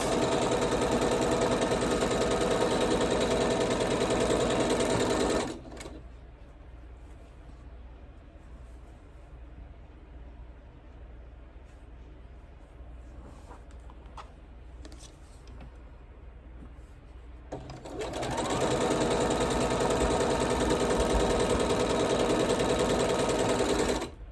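A sewing machine stitches a quilt block for the Norfolk Fleur Noire block of the month, running loud and steady for about five seconds, pausing through a quiet stretch with faint handling, then whirring again at full speed near the end.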